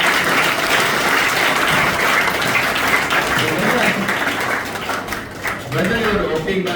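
Audience clapping fills the room at a steady, dense level, continuing strongly before tapering slightly near the end, with a speaker talking over it.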